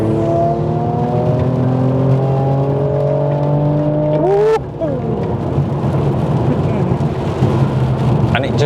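Mercedes-AMG C43 with four-wheel drive accelerating hard in Sport Plus on a rain-soaked road, a loud rising engine note climbing through gears with a sharp shift midway, then a deep roar over road and rain noise.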